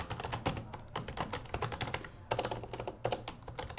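Rapid, uneven clicking of keys on a computer keyboard as text is entered, steady close typing in bursts with brief pauses and no talking.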